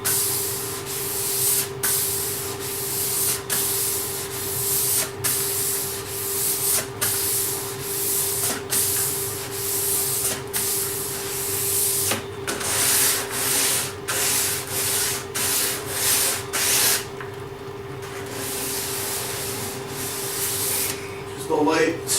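Sandpaper rubbed by hand along the sides of a wooden desk under construction, a steady close scratching in repeated back-and-forth strokes over a constant hum, with brief pauses between passes.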